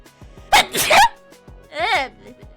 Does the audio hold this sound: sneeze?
yes